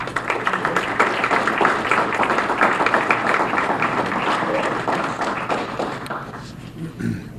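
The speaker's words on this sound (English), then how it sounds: "we'll just have a round of applause for Peter" A room full of people claps in sustained applause for Peter Boswell, steady for several seconds before tapering off and fading near the end.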